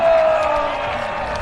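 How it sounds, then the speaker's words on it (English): Crowd at a Vermont Green FC soccer match against CS Saint-Laurent applauding and cheering, a continuous broad roar of clapping and voices holding steady throughout. "And let's give another warm Vermont Green round of applause to our friends to the north"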